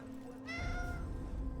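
A cat meowing in a video game, one drawn-out harmonic meow rising clearly over a steady low background hum.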